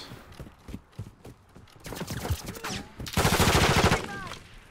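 Gunfire in Call of Duty: Modern Warfare 2 multiplayer, starting as scattered shots and building into a loud, rapid automatic burst near the end, with faint talk at times.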